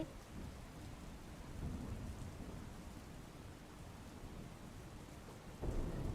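Steady heavy rain hisses in a dense, continuous wash over rural Surat, Gujarat, with low rumbling underneath and a louder surge near the end.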